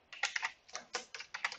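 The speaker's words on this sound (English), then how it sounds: "Make sure you're typing it in exactly the way I'm typing it in" A handful of quick computer keyboard keystrokes while typing Python turtle graphics code, crisp close clicks in short bursts with brief gaps, and no voice.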